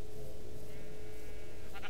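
Sheep in the video game Minecraft bleating, a drawn-out nasal bleat over a steady game background hum, moderately loud and with no talk.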